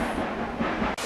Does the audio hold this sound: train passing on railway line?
yes